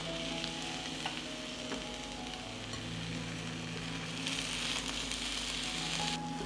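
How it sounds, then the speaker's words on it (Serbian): Eggplant slices frying in hot olive oil, a continuous soft sizzle and crackle at moderate distance with a few faint clinks, no voices. "Na zagrejano ulje spuštam patlidžan i pržim po 2 minuta sa obe strane."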